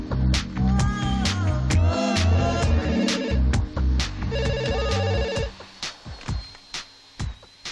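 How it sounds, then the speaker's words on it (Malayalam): A telephone rings in a comedy film scene, repeated electronic ringtone bursts over busy background music and effects, then the backdrop drops away, leaving quieter scattered sounds. "ദാ ജെന്നിഫറിന്റെ ഫോൺ."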